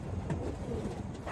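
A racing pigeon coos at a pigeon derby in Florida, a low soft murmuring call over a steady background hum, close and fairly faint.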